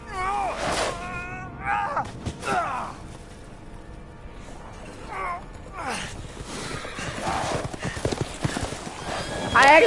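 Horse neighing and hooves clip-clopping in the video game Resident Evil Village, with several whinnies over steady hoofbeats and game ambience, growing louder toward the end.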